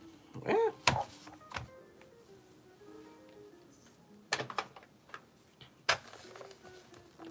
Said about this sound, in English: Now let's put in our mag release.